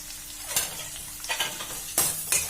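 Onions frying in a pan for a fish curry, stirred with a utensil: a steady sizzle runs throughout, broken by a few sharp scraping strokes, close and moderately loud, with no voices.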